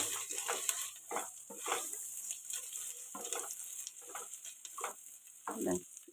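Chili powder and turmeric are stirred in a frying pan for a dhaba-style dish, with quiet, intermittent bursts of scraping and soft sizzle as the spatula moves.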